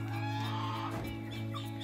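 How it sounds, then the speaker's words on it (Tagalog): Chickens on a farm in the Philippines, soft clucking against a low steady hum, faint and brief. "Yan, yung mga manok natin, malalaki na sila."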